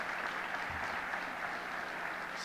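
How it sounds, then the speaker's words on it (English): Applause from the audience at a police department annual awards ceremony in Phoenix fills the room, a steady dense wash of clapping that holds at an even level from start to finish. "So give yourselves a round of applause"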